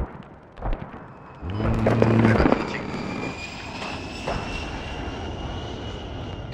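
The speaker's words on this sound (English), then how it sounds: "You said airstrike in 20. It's landing in about 10 now." An airstrike arrives in the Squad battlefield game as an aircraft roars in: a loud engine swell with low droning harmonics for about a second, then a sustained rushing whine that lingers at moderate level.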